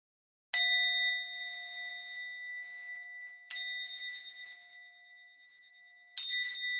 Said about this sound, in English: I'm glad the bell sounds good, Tor.